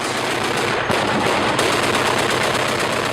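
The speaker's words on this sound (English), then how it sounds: "When the Taliban opened fire on their small compound, the villagers joined the Americans in returning fire with a vengeance" Gunfire during a battle between Taliban fighters and Americans joined by villagers at a small compound, a loud, dense and continuous automatic burst with no gaps, harsh and close.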